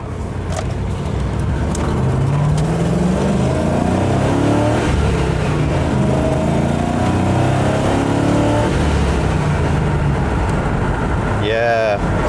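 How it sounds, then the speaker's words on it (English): A 1990 Land Rover Discovery V8 with a blowing exhaust drones loudly and steadily while driving, with a rough, raspy exhaust note rising and falling through gear changes, close up. "even with a blowing exhaust, that sounds nice"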